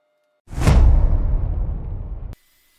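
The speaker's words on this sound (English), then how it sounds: "I used my Graco Pro 2 sprayer" A Graco Pro 2 paint sprayer lays finish onto walnut veneered panels in one close, steady hissing burst of about two seconds that cuts off abruptly.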